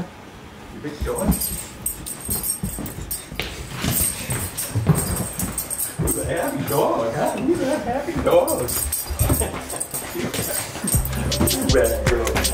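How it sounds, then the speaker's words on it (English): A happy female dog moves around excitedly, with small whimpers and yips mixed with jangling and clattering, while a person talks to it close by. "You're a happy dog."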